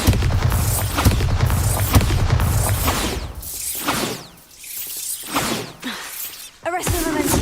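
Bombarda spell blast in the video game Hogwarts Legacy: loud booming impacts with whooshes and shattering debris, several heavy bursts in a dense, continuous battle mix.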